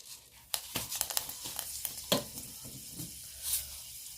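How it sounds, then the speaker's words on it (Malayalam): Fenugreek seeds drop into hot oil in a clay pan and crackle and sizzle in sharp irregular pops over a soft frying hiss, fairly quiet and close, with no talking. "ആദ്യം നമുക്ക് ഇച്ചിരി ഉലുവ ഇട്ട് കൊടുക്കാം."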